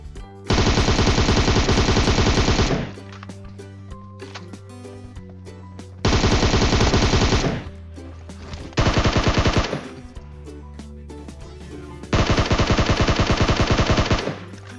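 Long bursts of rapid automatic gunfire in PUBG Mobile, loud and close, come in four separate volleys with brief pauses between them over a steady game backdrop.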